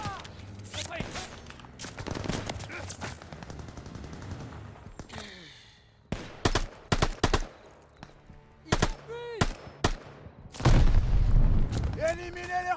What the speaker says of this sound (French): Attaque à la mitrailleuse, je replie!